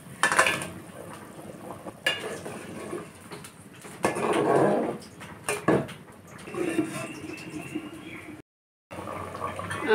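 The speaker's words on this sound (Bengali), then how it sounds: "এবার ভেজে রাখা মাছটাকে ঢেলে দেব।" Fried katla fish tipped into a pot of thin simmering curry, with clattering pot-and-utensil knocks and liquid splashes in bursts, fairly close, followed by quieter bubbling.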